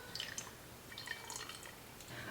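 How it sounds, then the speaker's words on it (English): Beef bone broth fat pours into a jar, giving faint, quiet drips and small liquid splashes scattered irregularly over a couple of seconds. "I'm gonna pour that into a different jar because that's mostly just the beef fat there"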